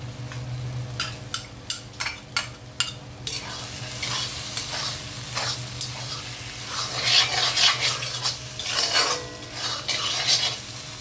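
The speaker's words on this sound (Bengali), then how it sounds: "আমি এখন আলুটা যে ভাজি করে রেখেছিলাম এটা দিয়ে দিব" Fried potatoes tipped into a pan of brain curry, several sharp clinks of a utensil against the pan, followed by loud close-up sizzling and stirring with scraping metal, with no talking.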